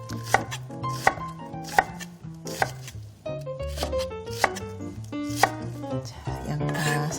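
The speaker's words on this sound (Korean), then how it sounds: "양파 썰었고요" A knife chops through onion on a cutting board in a steady series of sharp, close thuds, about one every second, set against a soft background hum with no talk.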